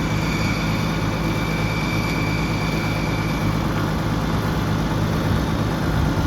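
An Oliver Super 77 tractor engine runs steadily and a bit rich, with a continuous rough idle throb and a high whine from the alternator layered over it, close and unchanging throughout.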